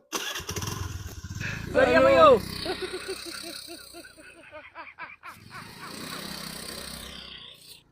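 A motorcycle engine is kicked or cranked and catches, sputtering into a rough idle after a brief louder burst, with people talking over and around the engine.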